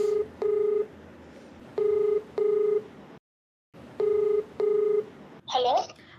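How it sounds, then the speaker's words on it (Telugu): Touch-tone phone keypad being dialed: a series of short, clear DTMF beeps in pairs with brief pauses, ending in a faint connecting chirp. "నేను కాల్ చేస్తానండి."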